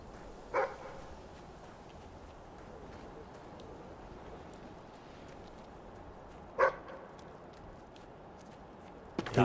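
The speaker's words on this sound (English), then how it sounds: "Damn dog is dangerous too." A dog in the video game Fable 3 barks twice, a few seconds apart, each a short loud bark over a quiet, steady background.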